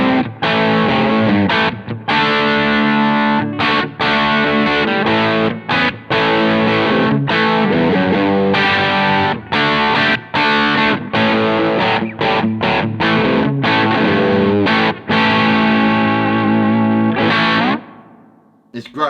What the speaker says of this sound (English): I put a bit of distortion on, well, overdrive from the 8 to 5.